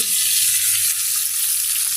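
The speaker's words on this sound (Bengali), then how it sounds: "মাছ ভাজা বসায় দিলাম" Steady, dense frying sizzle of tilapia fish in hot oil, a continuous bright hiss with low cooking rumble underneath, close and fairly loud throughout.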